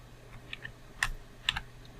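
Scattered keystrokes tap on a computer keyboard up close, a few irregular clicks and clacks with pauses between, no speech.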